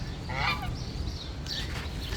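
Several geese honk close by in short bursts at a small local zoo in the USA, their calls standing out over a steady outdoor background hum.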